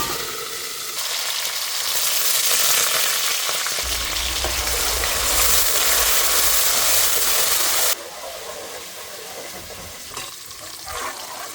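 Garlic sizzles and crackles steadily in hot oil in a home kitchen pan, a loud continuous frying hiss that shifts in texture midway, with no talking.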